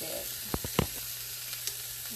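Meat for birria sizzles quietly in an Instant Pot with a constant soft hiss, broken by a few sharp crackles and pops.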